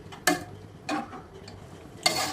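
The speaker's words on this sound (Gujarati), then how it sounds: "સતત આવી રીતે હલાવતા રહીએ આજુબાજુમાં મલાઈ જામી નહીં" A spoon stirs full-cream milk boiling in a pan, giving three separate scraping strokes against the pan over a low bubbling simmer, close and without talk.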